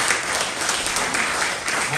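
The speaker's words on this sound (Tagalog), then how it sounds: "Palakpakan natin ang Panginoon." A church audience applauds during a sermon service, giving loud, continuous, dense clapping throughout.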